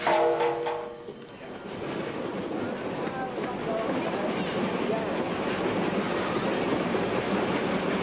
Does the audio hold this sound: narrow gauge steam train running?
yes